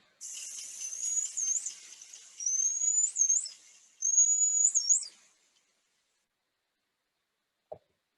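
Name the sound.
dolphin signature whistle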